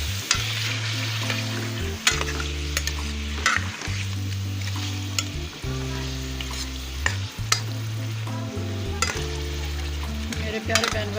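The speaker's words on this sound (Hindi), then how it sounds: "ये सबसे पहले मैं चिकन फ्राई कर रही हूँ।" Chicken for biryani fries in a pot with a continuous sizzle, while a spoon scrapes and clatters in a repeated stirring rhythm and a low steady hum runs underneath; nobody speaks.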